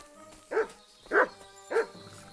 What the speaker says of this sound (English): Good dog, Mutt.